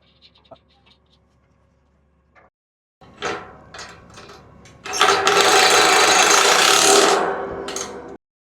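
Bolts 7/16 by 1.5 inches go in on a shade structure installation. Soft clicks give way to an irregular mechanical ratcheting rasp, then a loud continuous whirring burst of a few seconds, close by.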